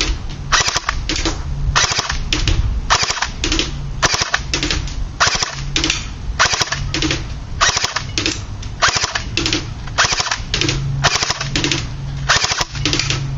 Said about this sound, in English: Let's see how accurate this submachine gun can really be.